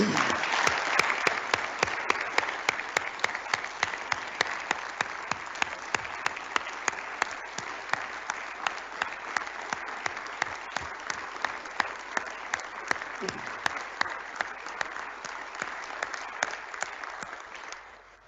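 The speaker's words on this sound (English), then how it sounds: "Let's give them a round of applause." An audience at a state address applauds school teachers and staff, steady sustained applause from a large crowd that continues evenly for a long stretch before fading at the end.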